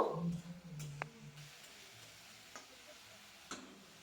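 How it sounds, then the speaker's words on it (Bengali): Ginger, garlic and green chili paste stirred in a pan, a faint sizzle with a few soft scrapes and light clicks of the spoon, close and quiet. "সব কিছু একসাথে তিন থেকে চার মিনিট নাড়াচাড়া করে নেব"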